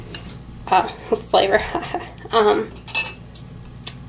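A spoon stirs a lanolin and water mixture in a plastic container, giving bursts of knocking and scraping against the sides, with brief clinks and some short pauses between strokes.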